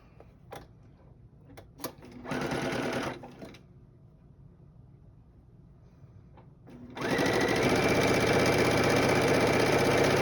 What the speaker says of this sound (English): I'm going to take and I am going to stitch just like that